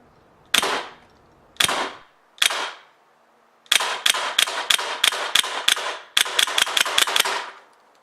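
Polarstar Fusion Engine Version 3 airsoft gun firing on semi-auto: three separate sharp cracks with pauses, then two quick runs of closely spaced shots, loud and near with no talk.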